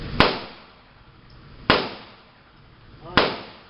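Three sharp gunshots at the FFA gun range in NPR, each a loud crack with a decaying tail, spaced about a second and a half apart, with low voices murmuring in between.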